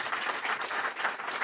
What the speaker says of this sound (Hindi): जोरदार तालियां बनती है